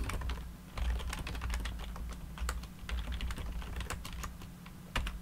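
Fast typing on a computer keyboard while entering a BGP router command in a network lab, a steady stream of crisp, close key clicks with a few heavier strokes and no talking.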